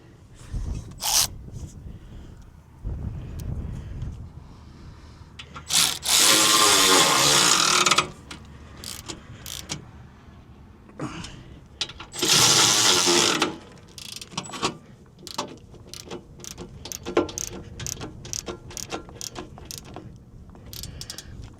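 A hand ratchet tightens bolts on a Bobcat T86 skid steer while a debris seal kit is installed, with quick clicking runs separated by pauses and two louder, longer whirring bursts.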